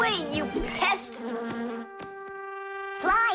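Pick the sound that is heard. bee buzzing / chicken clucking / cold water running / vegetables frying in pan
bee buzzing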